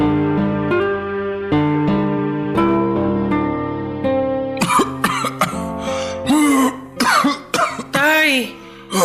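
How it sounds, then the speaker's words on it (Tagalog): A man coughs repeatedly in a short, ragged burst, loud and close, amid music and other voices talking; earlier the sound is mostly a musical bed. "Kanina pa talaga ako inaatake ng ubo."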